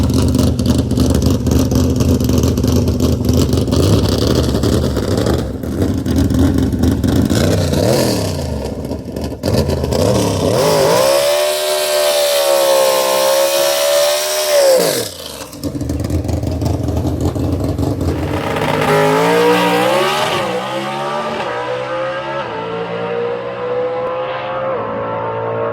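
Coyote-engined all-motor drag race car, the Joker 2.0, revving hard through its gears and bouncing off the rev limiter, loud and close, with a sharp pitch climb, a brief drop at the shift and a second rising pull.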